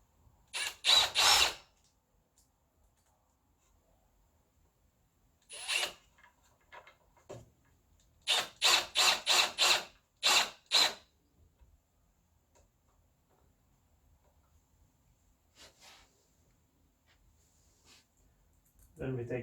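A power drill driving screws while a retractable baby safety gate is mounted, heard in several short bursts of whirring, some in quick runs of four or five, with long quiet gaps between them.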